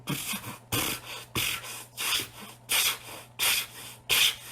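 A voice imitates a hacksaw sawing with about seven evenly spaced, breathy rasping strokes. Each stroke sounds close and alone, with short pauses between them.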